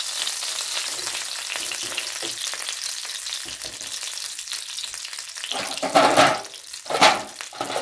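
Cheeseburger patties fry in a pan with a steady, close crackling sizzle, punctuated by a couple of louder spitting bursts near the end.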